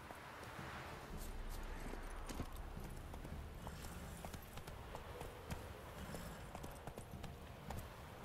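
Roach the horse galloping in The Witcher 3, a steady, rapid clip-clop of hooves on the ground, faint and continuous, with scattered sharper hoof strikes and no voices.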